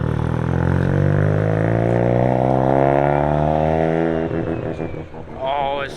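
Mazda RX7 rotary engine idling steadily up close, a loud smooth drone with a harmonic whine that shifts slightly before a brief rev-like wobble near the end.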